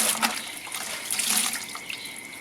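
A cloth is soaked in a bucket of water mixed with cleaner, making continuous close sloshing and trickling water sounds with no talking.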